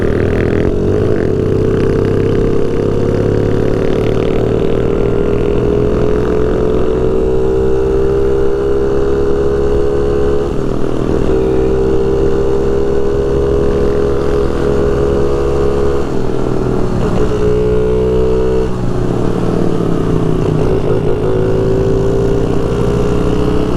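A Tao dirt bike engine drones close by while riding, steady loud buzzing with rising and falling revs and a few shifts in pitch around the middle, continuous throughout.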